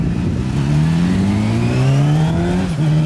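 A new motorcycle's engine revs steadily upward as the rider pulls away, a loud, close, rising drone with a brief dip near the end before climbing again.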